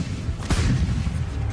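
Deep rumbling booms of a massed artillery barrage, a dense continuous roar of gunfire with a sharper blast in the middle, loud and close.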